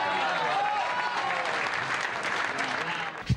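Inter football fans applaud warmly in a sustained, dense wash of clapping that runs steadily throughout, with crowd murmur mixed in and a sharp thump near the end.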